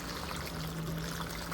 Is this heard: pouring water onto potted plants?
yes